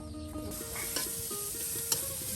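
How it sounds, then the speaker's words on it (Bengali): Onions fry in hot oil for a village-style pumpkin and tilapia curry, giving a steady close sizzle with a few soft clinks and scrapes of the pan. "দেখুন পেঁয়াজগুলো কিন্তু একদম এই যে তেলে একদম ভেজে নেওয়া হচ্ছে"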